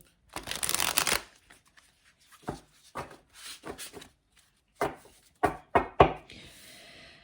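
Tarot cards are shuffled by hand at close range: one long riffling burst followed by a run of short, crisp flicks and taps separated by quiet gaps, with no talking.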